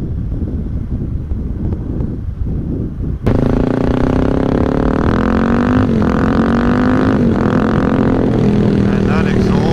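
A Suzuki DRZ400 motorcycle's exhaust drones loud and steady while riding, starting abruptly and holding a rising engine tone with brief dips as the throttle shifts, mixed with wind buffeting on the microphone.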